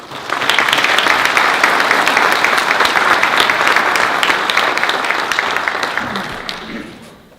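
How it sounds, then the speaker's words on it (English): An audience at a school empowerment conference applauds with steady, dense clapping that holds strong for around six seconds before tapering off at the end. "Please join me in a round of applause"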